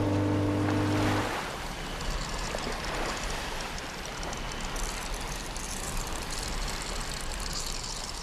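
Sea waves wash onto a beach at high tide in a steady, broad rushing roar, following a brief low droning tone at the start, with no talking.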